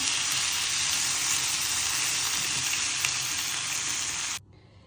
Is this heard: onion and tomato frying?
yes